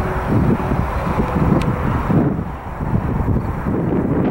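Steady wind buffeting the microphone at Cajon Pass, a loud low rumble that swells and dips throughout with no talking.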